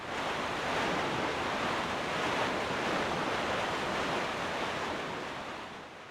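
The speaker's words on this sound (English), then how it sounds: "Your boat, the ocean, and the wind." Ocean surf and wind from the sailing video game The Wind Waker, a continuous broad rushing wash that swells and recedes gently, fairly loud and steady, with no voices.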